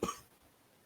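A single short, close cough from someone with a cold, sharp at the start and trailing off quickly into quiet room tone.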